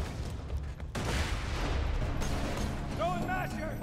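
Grenade explosions and gunfire in the Borderlands 2 video game, a dense burst of shots and blasts under a player's talk, with a short rising electronic chirp near the end.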